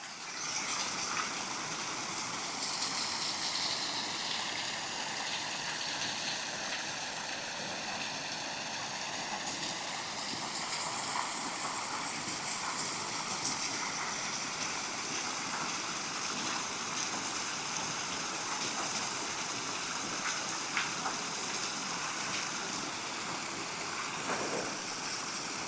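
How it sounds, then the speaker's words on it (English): A waterfall roars continuously and evenly, a broad steady wash of flowing water heard from nearby above the falls, without pauses. "And here's the waterfall from above."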